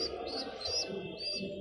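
Pigeons feeding their squabs in a loft give soft, close cooing and chirping calls, a few brief high notes over a low murmur, fairly quiet and without talk.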